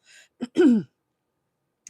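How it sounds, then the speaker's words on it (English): A single close throat clear, a short rough rasp preceded by a faint breath, followed by silence. "Pardon me if I'm clearing my throat a lot"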